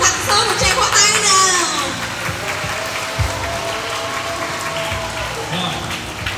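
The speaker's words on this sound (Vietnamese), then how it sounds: "Mình cùng tặng Sơn một tràng pháo tay nào." Children and a church congregation clap together at a Good Shepherd Sunday vocations event, a loud burst of applause that fades into softer scattered clapping with children's voices and a sustained tone beneath.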